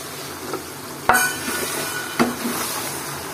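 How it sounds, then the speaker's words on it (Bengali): Olive pickle ingredients stir-fried in mustard oil in a pan, a steady sizzle with two sharp metallic spoon knocks against the pan, close and loud, no talk. "এবার সমস্ত উপকরণ ভালো করে তেলের মধ্যে কষিয়ে নিব"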